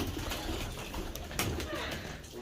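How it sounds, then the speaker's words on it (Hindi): Pet pigeons cooing close by in a backyard loft on a rainy winter day, soft low coos blending with steady background noise and brief clatter. "ये कबूतर है अपने हेल्फी कबूतर"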